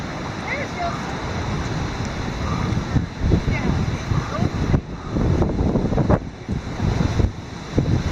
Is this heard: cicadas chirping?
no